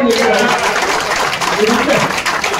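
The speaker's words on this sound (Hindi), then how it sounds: "अगर मैं सही कह रहा हूँ तो भाई ताली हो जाए" An audience claps steadily throughout, a dense and fairly loud wash of applause that keeps going for the whole stretch, with voices mixed in underneath.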